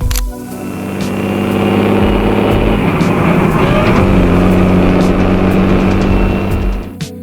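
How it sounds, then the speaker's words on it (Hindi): A truck engine accelerating in high gear, a loud, steady, rising drone with harmonic whine that builds over several seconds and holds strong before easing off near the end, heard alone and close. "इस गियर में ट्रक अपना पोटेंशियल बेधड़क दिखाती है। वो स्पीड बढ़ाती जाती है।"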